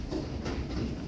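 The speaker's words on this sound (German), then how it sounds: "Your City 112 to Frankfurt and Main via Salzburg Hauptbahnhof is arriving at Platform 2." EuroCity 112 'Blauer Enzian' train, running with a substitute trainset, pulls into a platform at Mallnitz station with a steady, loud, broadband rolling rumble and rail noise throughout.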